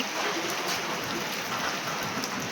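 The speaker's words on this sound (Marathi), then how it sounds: "बघा आमच्या मागे पाऊस चालू आहे" Heavy rain pours steadily in a village in Buldhana district during a storm, a dense, even roar of falling water that fills the whole stretch without letup.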